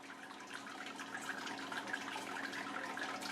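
Water runs steadily and faintly out during beer sparging, a soft continuous trickle and hiss with no talk.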